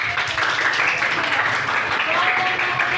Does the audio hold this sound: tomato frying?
no